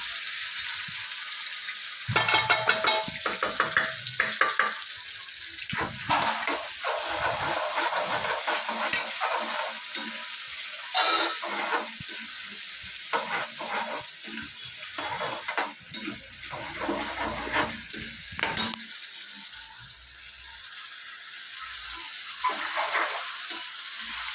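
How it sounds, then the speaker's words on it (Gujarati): Curry leaves splutter in hot oil for a Kathiawadi vaghar of rotlo, with a loud continuous sizzle and hiss punctuated by bursts of crackling and stirring, heard close up. "આ બધું મિક્સ થઈ જાય તેલમાં નાખી દીધું છે જુઓ તમે આનો વઘાર જોવો"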